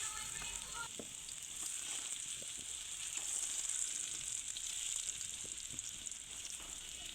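Pumpkin pieces frying in mustard oil in a wok, a soft, even hiss of oil with light crackles, fairly quiet and steady with no speech.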